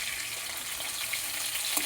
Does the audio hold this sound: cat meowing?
no